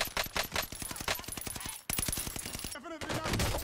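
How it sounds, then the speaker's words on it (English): Rapid gunfire crackles through a Call of Duty Rebirth Island match, a dense run of sharp repeated shots that breaks off briefly and then resumes with more bursts, loud and close in the game mix. "Oh, someone just got sniped."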